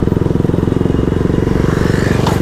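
KTM motorcycle engine running close by with a loud, steady, rapid low throb, idling without much change in pitch.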